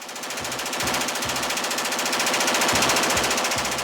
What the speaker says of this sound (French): Les fusils mitrailleurs de type Kalachnikov permettent de tirer en moins de 30 secondes jusqu'à 350 balles.